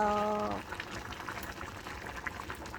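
Beef and Irish potato meat-pie filling simmers in a pot, a steady close bubbling and hissing that runs throughout after a brief tonal hum at the start.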